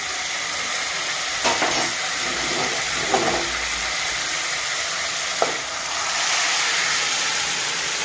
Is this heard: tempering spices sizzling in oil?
yes